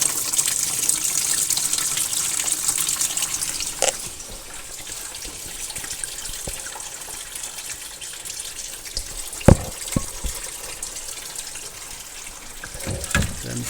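Engine coolant draining from a 2015 VW Jetta TSI 1.8T during an oil cooler replacement, a continuous hissing, splashing liquid stream with a few sharp drips and clanks near the end.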